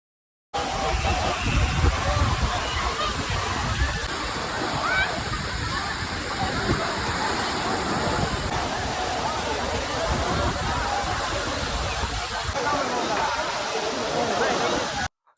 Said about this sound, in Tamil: ஸோ நம்ம ஃபால்ஸ் கிட்ட வந்துட்டோம்